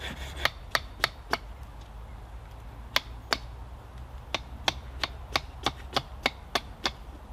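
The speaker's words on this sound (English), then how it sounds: "this chisel is so blunt at the moment, so I'm going to have to give it a bit of a sharpen" A blunt wood chisel is sharpened in sharp, evenly spaced strokes, a string of crisp scraping clicks about every third of a second with a brief pause in the middle, close up over a faint steady background hum.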